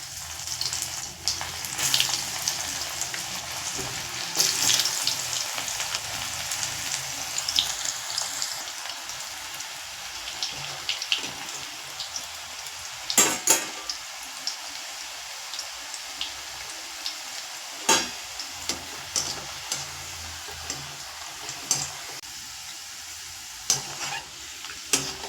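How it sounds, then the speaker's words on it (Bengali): Sliced sweet potato fries in hot oil in a wok, giving a steady, close sizzle and hiss with scattered crackles and pops throughout, and no voices. "এই যে রাঙালু কেটে রেখেছি ওগুলো দিয়ে দেবো তেলে।"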